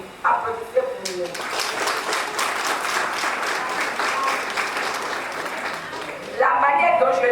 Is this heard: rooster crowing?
no